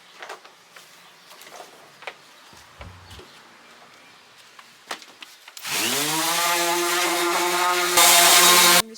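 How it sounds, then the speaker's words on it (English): Light scraping and knocks on wooden deck boards come first, then a power sander starts with a rising whir. It runs loud and steady over the deck for the last few seconds, then cuts off. "I'm just going in with the sander to remove any of the marks that I made from the pressure washer, also to prevent any splinters"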